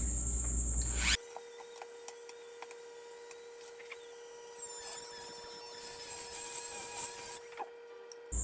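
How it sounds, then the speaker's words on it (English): Dremel rotary tool cutting a plastic mount for a Jebao DP-4 doser, a high steady whine that starts abruptly after a brief loud burst and holds nearly unchanged, with faint scraping and small clicks, close by. "you can see the very first cut I did, you actually have to cut it from the bottom side, just because from the top side, the Dremel doesn't fit"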